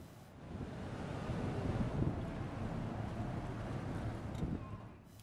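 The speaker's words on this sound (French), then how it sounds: "le retour avec vents latéraux importants et de bien grosses vagues n'ont laissé personne indifférent sur le bateau" Strong side winds buffet a boat on heavy seas off Australia, a dense roar of wind and crashing waves that swells and fades, with no voices over it.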